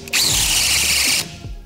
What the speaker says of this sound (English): what happened right there is our drill torqued out